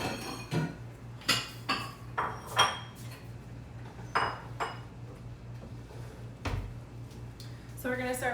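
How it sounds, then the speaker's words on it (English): Bowls and dishes clink and knock in a home kitchen while poke bowls are being assembled, giving a series of sharp, bright ceramic chinks spread irregularly over a low background hum. "So we're gonna grab the bowls."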